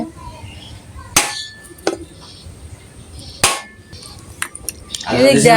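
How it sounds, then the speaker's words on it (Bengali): A coconut is cracked open with a few sharp, loud knocks spaced a second or two apart, followed by rustling handling at the end. "তো এখন আমি নারকেলগুলোকে ভেঙে নেব"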